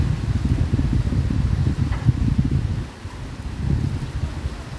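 Strong storm wind blowing in a steady low rumble with rustling gusts, easing briefly before picking up again, no voices.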